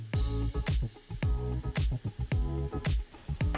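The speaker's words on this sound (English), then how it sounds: "Now what we're gonna do now is pour in our sauce." Sauce poured into a pan of crispy tamarind fish for Thai pla rad prik, giving close, repeated wet splats and sizzling bursts in an uneven rhythm.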